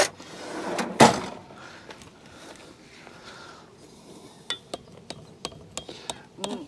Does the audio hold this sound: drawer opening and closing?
yes